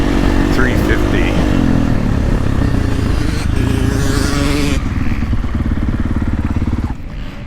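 A 2023 Gas Gas MC350 dirt bike engine revs loud and close, holding a steady throttle with a rising and falling pitch, then easing off near the end.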